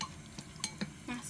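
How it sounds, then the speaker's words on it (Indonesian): Ingredients for macaroni soup are stirred with about a spoonful of oil in a pan, giving a few scattered utensil scrapes and clinks over a soft background hiss. "Ini minyak kurang lebihnya 1 sendok. Terus saya aduk kembali."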